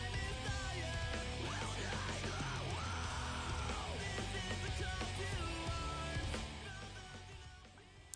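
A person screams in long, wavering yells over loud, continuous music, the voice rising and falling before the mix fades slightly near the end.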